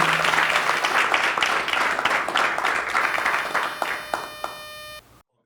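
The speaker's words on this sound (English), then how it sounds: "let's give Jimmy a round of applause" Audience clapping for a sales MVP award, a few distinct hand claps within a broad round of applause that thins out, with electronic beeping tones near the end before it cuts to silence.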